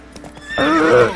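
A horse in the video game The Witcher 3 whinnies loudly with a long, quavering neigh over hoofbeats, rising sharply after a quieter opening.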